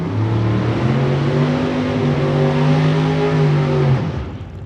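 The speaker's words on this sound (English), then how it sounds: "warming up the tires" A drag race car does a burnout to warm its tires at a Las Vegas drag strip, a loud, sustained engine roar with steady rising harmonics for about four seconds before cutting off.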